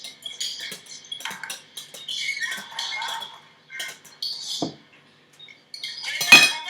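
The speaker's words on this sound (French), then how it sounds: "remuer la crème anglaise." A spoon stirs crème anglaise for île flottante, made in a microwave, in a bowl: a run of light clinking and scraping strokes, close and fairly clear, with short pauses between bursts and a sharper clatter near the end.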